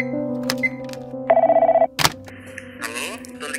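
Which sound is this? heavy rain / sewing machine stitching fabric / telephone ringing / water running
telephone ringing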